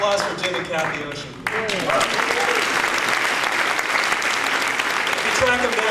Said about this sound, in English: Big applause for Jimmy Capt, the Ocean.